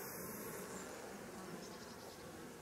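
Honey bees buzz around a beehive during a final pre-winter check, a dense, steady close-up hum of many insects with no talk.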